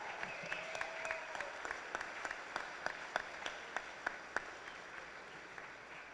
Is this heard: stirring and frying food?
no